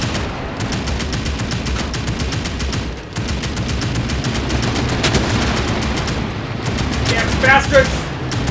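Rapid bursts of bomber turret machine-gun fire aimed at attacking fighters in the Medal of Honor: Above and Beyond video game, loud and nearly continuous, with someone shouting briefly over the shooting.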